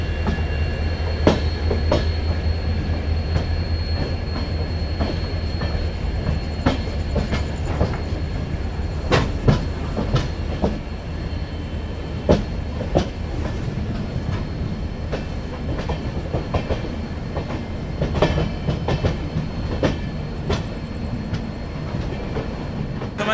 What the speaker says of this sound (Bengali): ট্রেন পৌঁছালো এসে গুয়াহাটিতে।